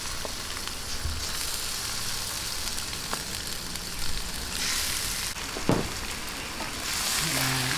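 Pork hock frying in a pan with toasted garlic, giving a steady close sizzle with bursts of louder crackle and occasional clinks of a utensil, no talk.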